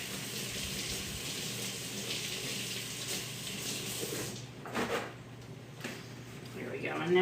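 Tap water runs at a kitchen sink as hands and a knife are washed, a steady broadband wash with brief clinks and rubbing near the end.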